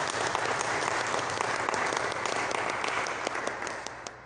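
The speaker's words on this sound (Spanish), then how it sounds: "Así que de nuevo un aplauso para él" Sustained applause from a seated audience at a church diocese workshop session, a dense steady clatter of many hands clapping for several seconds without a break, loud and close throughout.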